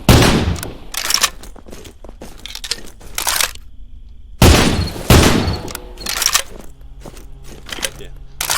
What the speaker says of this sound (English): And the shotgun is definitely a little more beefy.